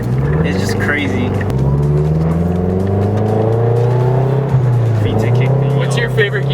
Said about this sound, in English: as soon as you hit high RPMs, like the freaking turbo just kicks in